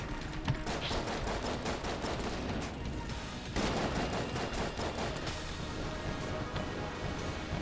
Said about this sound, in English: this is doing more damage with the explosive shots at the end.